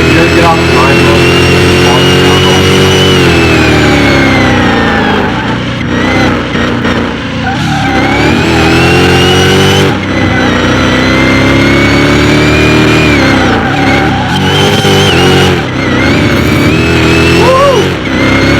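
A 2,400-horsepower Hellhawk SUV with 2,800 ft-lb of torque launches off the line in a mile drag race, its engine roaring loud and close in a sustained, rising howl with brief dips as it climbs through the gears; voices call out over it.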